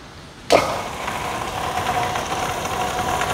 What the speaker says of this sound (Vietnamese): Chúng ta thấy bơm vận hành êm ả bình thường